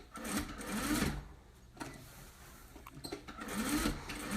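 Close stitching from a sewing machine on a DIY Father's Day gift, heard as two short whirring runs at the start and end with a quieter stretch between, and no talk.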